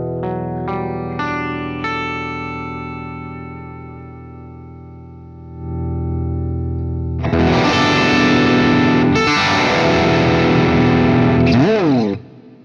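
Electric guitar through a Marshall amp at the Marshall factory, clean chimey rhythm notes ringing out first, then swelling into a louder, fuller strummed passage that cuts off sharply.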